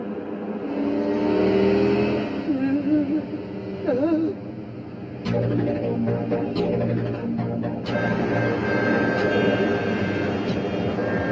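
A car drives with a droning engine that swells and rises in pitch. Sharp bangs and clicks break in partway through, and voices come and go over the noise.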